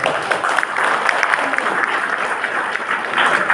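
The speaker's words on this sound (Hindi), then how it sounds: "आपने ताली तो बजाया" Listeners at a drug awareness programme break into brisk, continuous applause, a dense patter of many hands filling the room evenly for a few seconds.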